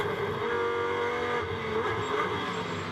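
Fanatec GT2 Series race car engine at the Algarve circuit, a loud, sustained, close roar with a steady high-pitched tone and slight shifts in pitch, with no other sounds.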